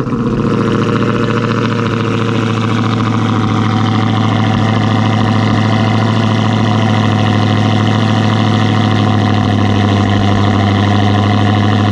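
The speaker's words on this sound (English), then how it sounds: "So it's time to fire up the kitty." A Hellcat muscle car engine idles with a deep, steady rumble, close and loud, holding an unbroken drone with no talk over it.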